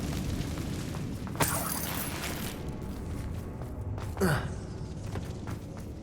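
Confringo explosion spell cast in Hogwarts Legacy, with two sharp bursts, a near crack and then a second whooshing blast, over a low rumbling game soundscape.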